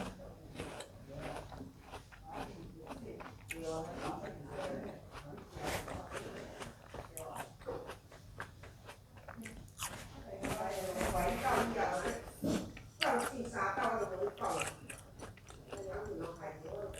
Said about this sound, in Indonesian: Wah, makan jambu.